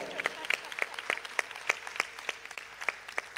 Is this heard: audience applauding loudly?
yes